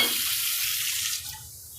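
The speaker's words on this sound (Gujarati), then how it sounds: "હવે આપણે થોડું થોડું પાણી નાખતું જવાનું અને લોટ બાંધી લેવાનો।" Water is poured from a tap into flour to knead dough for thepla, a steady close splashing stream that tapers off near the end.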